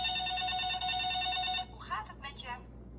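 A toy telephone rings with a bright electronic trill for about a second and a half, then a voice speaks briefly close by.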